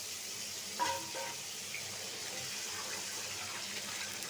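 Hilsa fish fries in a pan with a soft, steady sizzle, quiet and continuous, with a brief louder clatter near the start.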